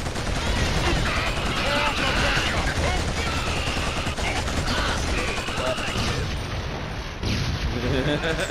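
Heavy machine gun fire and battle noise in the Killzone shooter, sustained loud automatic bursts with booms under shouted voices and radio chatter.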